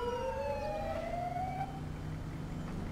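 Ambulance siren inside the GTA 5 game, a paramedic mod set in Madrid, wailing in sweeping rising and falling tones over a steady low engine rumble, loud and close for about two seconds before fading under the background hum.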